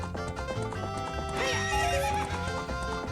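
Horse from Zelda: Ocarina of Time whinnies loudly over steady clip-clopping hooves, with bright game music playing throughout and no talk.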